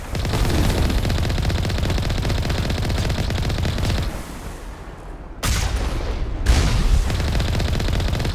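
Rapid automatic gunfire from enemies in the video game Mass Effect, shown as dense continuous bursts that dip briefly around the middle and then resume loudly, with no voices over it.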